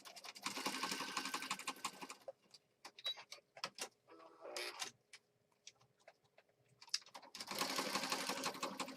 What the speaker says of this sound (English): We're going to stitch across.